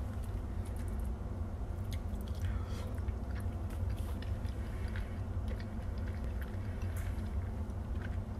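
Soft, moist chewing of regular Muscle Mac protein mac and cheese, close-up squishy mouth sounds continuing steadily without speech.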